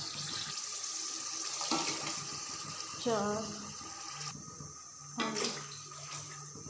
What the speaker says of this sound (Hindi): 5 गिलास पानी डाल दिया है।